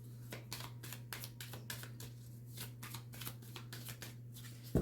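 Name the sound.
shuffling tarot cards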